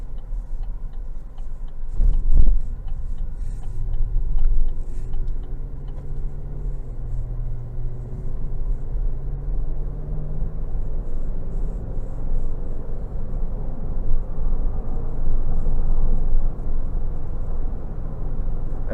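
Interior of a 2023 Chevy Suburban LS with a 5.3 V8 and 10-speed automatic driving on the road, a constant low rumble of engine and road noise with faint ticks and a brief thump, no voices.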